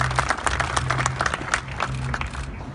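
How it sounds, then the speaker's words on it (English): An audience at a Long Beach Motorsports Walk of Fame honors ceremony applauds for a race legend, with steady dense clapping over a low hum that stays even throughout. "So a big round of applause to Jim."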